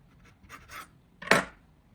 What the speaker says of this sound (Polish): Kroję salami na pół.